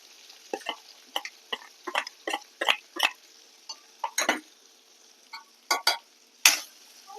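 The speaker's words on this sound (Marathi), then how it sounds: "इथं कांदा परततोय आपण" Finely chopped onion being sautéed with cumin and asafoetida in a pan, heard as a series of close, crisp scraping and stirring strokes in an uneven rhythm over a low sizzle, with no talking.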